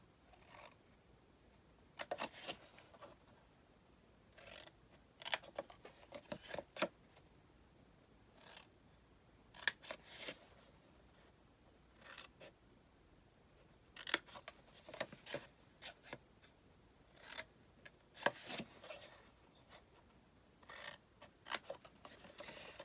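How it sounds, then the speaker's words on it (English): Scissors snipping through a chipboard corner for a mini album box, a run of short, crisp cuts and rasping scrapes in irregular bursts, close and fairly quiet with no talking. "I'm gonna cut out this corner all the way to the corner of the chipboard."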